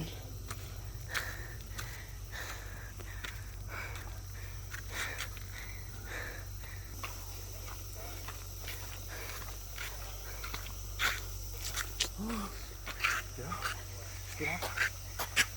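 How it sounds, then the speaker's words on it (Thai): A steady, shrill cicada drone fills the background, with scattered rustles and a few soft knocks on top. "เสียงจักจัน"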